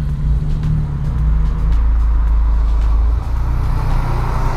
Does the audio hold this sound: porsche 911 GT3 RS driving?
yes